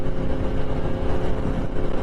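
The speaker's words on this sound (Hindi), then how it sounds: "This is my 2018 Yamaha R1" A 2018 Yamaha R1 superbike engine running, a loud, steady, close rumble with a throbbing low growl and no pauses, heard alone.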